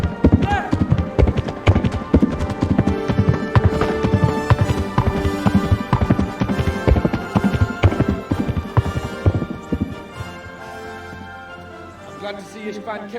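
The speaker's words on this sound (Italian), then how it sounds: "Rumore potente dei cavalli, i zoccoli." Galloping horses in Kingdom Come: Deliverance, a loud rapid clatter of many hooves that carries on for about ten seconds before easing and thinning into quieter background sound.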